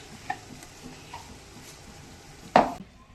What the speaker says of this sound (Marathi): आता याच्यात प्युरी घालूया टोमॅटोची